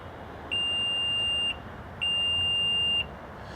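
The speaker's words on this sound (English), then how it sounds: "we're going to hold the button down right here and listen for the beeps" Two long electronic beeps from a 2025 Nissan Pathfinder Platinum confirming the power tailgate height setting, each about a second long, clear and steady over faint background hiss.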